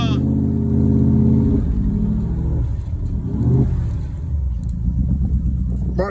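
A replica Cobra sports car engine roars and accelerates up close on a drive in Antibes, France, with rising rumbling revs that ease off and then pick up again.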